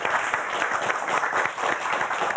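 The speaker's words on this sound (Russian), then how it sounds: "Эти аплодисменты вам." Applause from a karaoke studio audience, a steady, dense wash of many hands clapping at once, sustained and fairly loud throughout with no voices on top.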